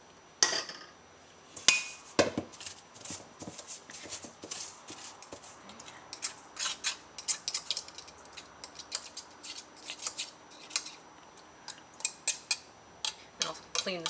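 Butter is cut into orange oatmeal scone dough in a bowl, giving repeated light clinks and scraping taps at an irregular, busy rhythm, close but fairly quiet.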